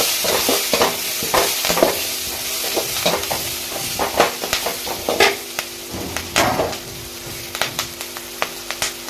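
Onions with turmeric frying in a pan for potato masala, a continuous sizzle with frequent sharp scraping stirs of a spoon, close and fairly loud, no voices.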